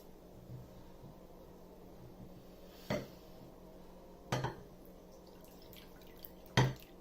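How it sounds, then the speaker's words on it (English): Water is added to melted butter in a bowl while making Colombian arepas, heard as a few sharp clinks and splashy knocks of a vessel against the bowl over a quiet kitchen background. "melt the butter and add 1 cup of water at room temperature."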